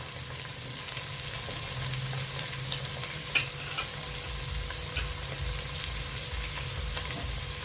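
Mixed vegetables for undhiyu, including tomato and sweet potato, sauté in a pan with a soft, steady sizzle. Faint stirring scrapes and a single sharp click stand out, with no talking.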